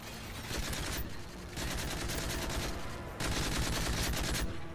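Rapid automatic gunfire from Call of Duty Modern Warfare 3 Spec Ops, in three sustained bursts of dense rattling shots with short gaps between them, loud and close with no talking.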